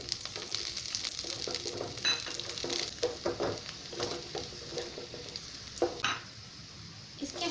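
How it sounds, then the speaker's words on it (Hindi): Chopped garlic deep-fries in oil in a pan for veg Manchurian, making a steady close sizzle broken by repeated stirring scrapes and light clinks against the pan, with no one speaking. "ये हो जाने पर इसमें कटी हुई लहसुन मैं डाल रही हूँ। इसे अच्छी तरह डीप फ्राई करेंगे।"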